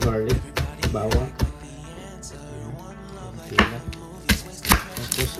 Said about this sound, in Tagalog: Taktarin natin itong garlic, bawang.